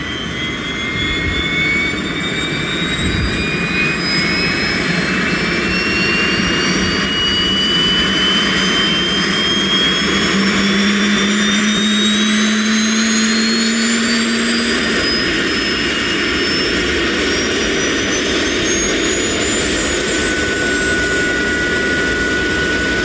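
A loud aircraft jet turbine installed in a road car whines and climbs steadily in pitch as it spools up, with a constant roar underneath and rising tonal whistles.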